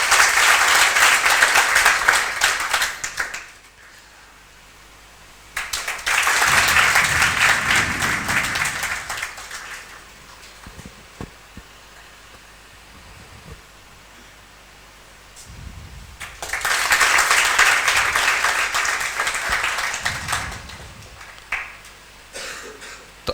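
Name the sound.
applause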